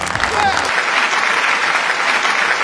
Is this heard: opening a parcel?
no